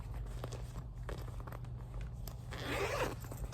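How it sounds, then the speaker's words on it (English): The zipper on a bag from a Temu package is opened and closed, with close, continuous ratcheting that gets louder and brighter near the end. "Really nice zipper."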